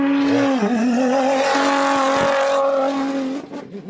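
A rally car with a Nissan twin-turbo engine roars loudly at a desert start line, holding a steady high rev before easing off and fading at the end.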